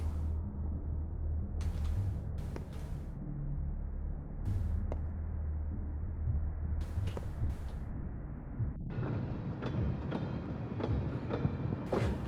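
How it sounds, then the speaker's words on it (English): Steady low train rumble from a moving railway carriage in the video game Pathologic 2, continuous throughout with occasional knocks and rattles, growing brighter and noisier near the end, with no talking. "If I wake up on this train one more time"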